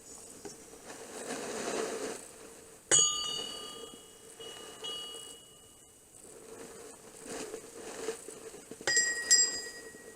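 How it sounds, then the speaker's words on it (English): A metal bell rings with sharp bright strikes inside an old inn, heard alongside scattered handling noises and a low background hum. "Did you just ring a metal bell or something?"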